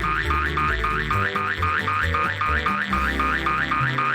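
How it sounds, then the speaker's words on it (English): A looping, springy boing effect from the Nicktoons Racing menus repeats rhythmically over a steady electronic backing tune, bright and loud throughout. "this excruciating bouncing sound effect they used in the menus"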